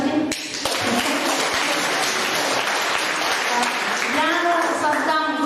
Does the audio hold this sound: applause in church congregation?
yes